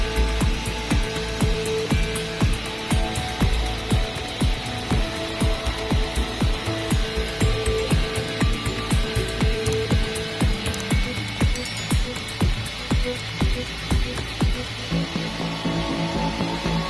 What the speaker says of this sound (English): revealing beautiful wood grain through each slice under a powerful saw